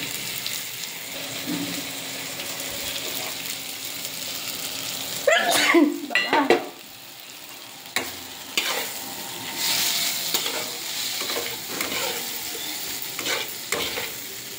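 A pan of fish head curry with cumin, chilli and turmeric sizzles as a utensil stirs it, scraping and clattering in irregular bursts over a steady frying hiss, with a person talking at times.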